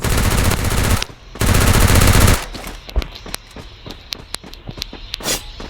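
Gunfire in the Free Fire video game: two loud sustained bursts of rapid automatic fire, followed by scattered single shots and footsteps at lower level.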